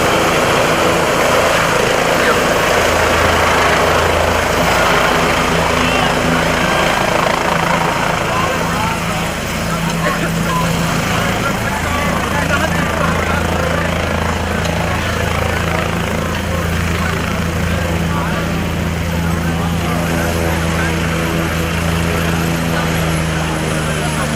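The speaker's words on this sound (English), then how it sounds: "A helicopter is landing." A helicopter's loud, steady rotor and engine roar fills the whole clip, holding close and constant as it lands at a mock DUI crash scene.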